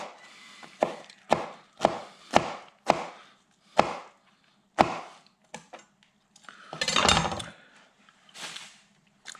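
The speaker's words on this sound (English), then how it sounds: "I'm going to do some vertical cuts on the end here by the root. And cut through." A knife chopping through an onion on a wooden board, a run of sharp evenly spaced thuds near and clear, a brief rustle of the onion, then a few more cuts, no talking.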